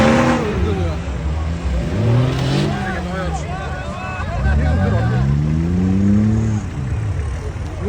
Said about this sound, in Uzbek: Hozir mana bu Nivani naryoqda 80 talik Land Cruiser tortadi